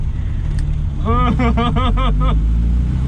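A three-wheeler car's engine runs steadily in the background, with a brief series of rhythmic pulsing tones through a gear change in the middle.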